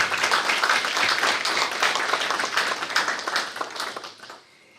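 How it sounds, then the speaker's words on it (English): An audience at a Hmong community scholarship award ceremony in Oshkosh, Wisconsin claps in a warm, dense round of applause that fades out near the end. "Let's give all of them a big round of applause."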